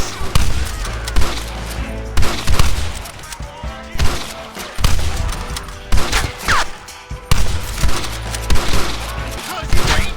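A Red Dead Redemption shootout crackles with loud, rapid gunfire, volleys of shots and splintering wood impacts repeating in bursts over about ten seconds.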